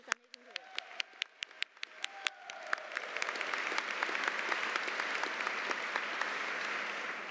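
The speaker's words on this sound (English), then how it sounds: "So let's give another bigger round of applause to this amazing" A graduation audience at a Duke Executive MBA ceremony applauds professors and faculty, starting with scattered sharp claps that swell into sustained, dense applause filling the hall, heard from a distance amid faint voices.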